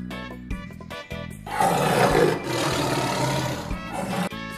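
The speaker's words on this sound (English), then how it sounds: "Tiger." A tiger gives a rough, powerful roar after a few short grunting bursts, the roar rising loud and sustained then tapering into throaty rumbles, near and alone.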